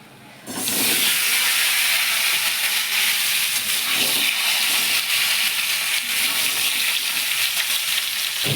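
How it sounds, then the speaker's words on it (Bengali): Green banana and potato pieces fry in hot oil alongside fried lentil dumplings for a Bengali fish curry, giving a loud, continuous close-up sizzle with bubbling hiss and occasional stirring. "এতেই আমি কলা আলুটা দিয়ে ভালো করে ভেজে নেব"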